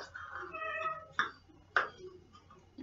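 A cat meows outdoors, first with a drawn-out plaintive cry and then two sharp, louder meows at steady intervals, all quite close and with no talking over them.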